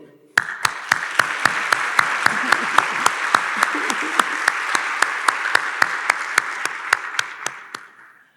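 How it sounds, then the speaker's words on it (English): Audience applause at a county state-of-the-county address, with a crowd clapping in a sharp, regular unison beat, roughly three claps per second, over a softer background of scattered clapping, ending abruptly. "Y'all give my First Lady another round of applause."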